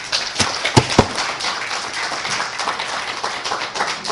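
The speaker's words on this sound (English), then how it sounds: "So a round of applause for them." An audience at a high school speech contest claps, with a few sharp individual claps standing out near the start before the sound settles into a thinner, scattered patter of applause.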